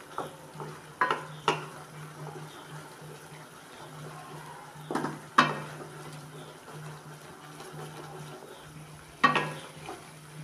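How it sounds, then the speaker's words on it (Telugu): Pasta boils in a pan over a medium flame, with a steady soft bubbling and a faint hum, broken by a few sharp scraping bursts as it is stirred. "దీన్ని కొంచెం కలుపుతూ ఉండాలా."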